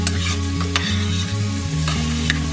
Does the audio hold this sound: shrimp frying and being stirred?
yes